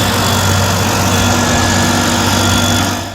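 An SC70TX forestry machine's engine runs loud and steady, a constant droning roar with no pauses, dropping slightly at the very end.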